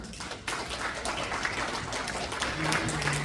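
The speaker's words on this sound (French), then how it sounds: "Est-ce qu'on peut applaudir pour ça?" Applause from a gathered audience at a church meeting, a steady wash of clapping throughout, with a voice talking over it near the end.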